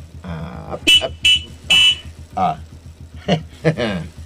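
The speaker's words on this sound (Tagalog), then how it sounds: "Mayat ti busina dayta motor mo" Three short, sharp horn beeps from a motorbike, loud and close, with a voice talking in between.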